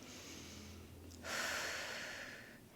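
During a gentle prenatal back exercise with a resistance band, one slow breath is drawn in and then pushed out in a longer, louder airy exhale, close and alone.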